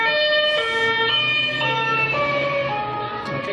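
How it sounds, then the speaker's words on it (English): A police car siren wails loudly as the car passes close by, its steady tone sliding down in pitch as it moves away, with road noise beneath and no talking. "you can hear that dip in pitch, and that comes from the fact that those sound waves are being stretched as the police car goes past"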